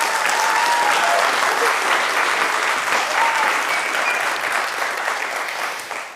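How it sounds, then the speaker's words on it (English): Audience applause after a presentation at a project update meeting, a dense sustained burst of clapping from a crowd, loud and continuous, fading slightly toward the end. "So I would like to ask you for an extra hand of applause."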